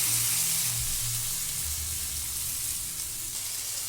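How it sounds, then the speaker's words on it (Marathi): Chopped onion frying in butter in a kadhai for market-style pav bhaji gives a steady, loud, close sizzle with crackling throughout, with no voices. "कांदा आता छान फ्राय होऊन द्यायचा आहे, ब्राऊन होईपर्यंत"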